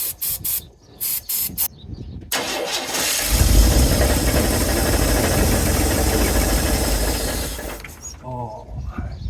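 A 1970 Chevrolet C-10 engine cranks and catches into a loud, steady mechanical run for several seconds, preceded by short bursts of noise and a brief pause, then cuts off.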